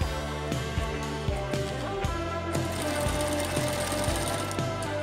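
A domestic sewing machine stitches fabric for a beginner's costume, running in a fast mechanical rattle with brief stops and restarts early on, then a longer steady run, close and loud.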